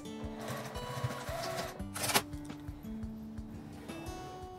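A sewing machine stitches a zippered pouch made from thin fabric, its mechanical chatter running steadily for a few seconds with a brief louder burst in the middle.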